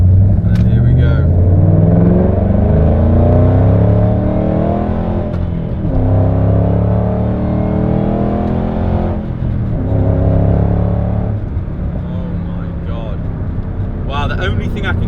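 A 2011 Ford Shelby GT500 with a supercharged V8 pulls hard in second gear, its deep engine drone rising and falling loudly from inside the car while the driver talks over it.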